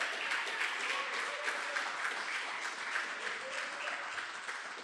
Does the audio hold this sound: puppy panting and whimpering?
no